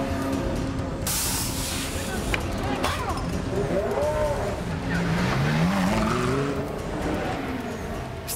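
Race car at the Francorchamps circuit (Spa 24 Hours) on a wet track, running on grooved rain tyres: a continuous engine drone with rising and falling pitch sweeps as cars pass, under a speaking voice.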